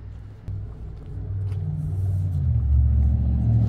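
A car passing at night on a residential street, a low rumbling engine and tyre drone building steadily louder as it approaches, with no voices.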